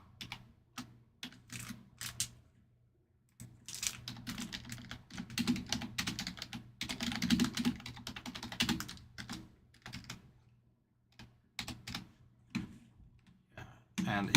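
Close, quiet typing on a computer keyboard during a sports card box break, irregular runs of clicking keys with short pauses, alongside low background talk.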